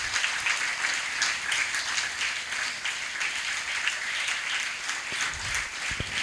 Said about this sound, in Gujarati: જોરદાર તાળીઓથી વધાવીએ.